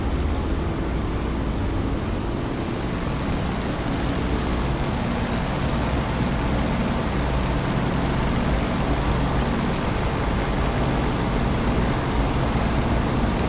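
Corsair propeller fighter in the DCS flight simulator, loaded with bombs and rockets, its engine a constant loud roaring drone with a deep rumbling low end that holds unbroken throughout, with no talk.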